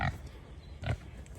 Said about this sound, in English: I gotta feed these pigs